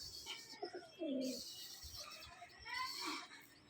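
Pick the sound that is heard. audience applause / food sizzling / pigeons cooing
pigeons cooing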